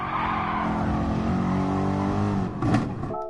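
A race car engine in GT Sport, revving high and steady as it brakes into a corner, then a quick downshift blip and a short tire squeal near the end. The car is close, with no talking.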